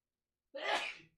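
A single sharp sneeze bursts out after a moment of silence, close and abrupt, then trails off.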